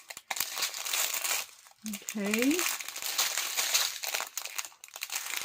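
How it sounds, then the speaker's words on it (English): Plastic bags are handled up close, giving bursts of crisp crinkling and rustling, and a voice speaks briefly partway through. "We got these plastic bags here"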